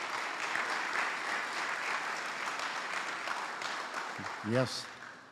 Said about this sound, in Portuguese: vocês anteciparam as palmas